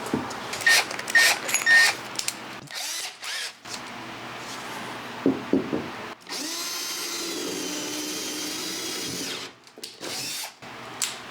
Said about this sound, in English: The jigsaw ran into a little problem with the double wood right there